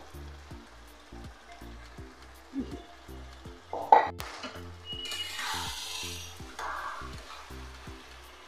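Fried fish head pieces sauté with spices in a pan, a soft steady sizzle beneath regular faint ticking, broken by a brief clatter as they go in and a louder hiss afterward.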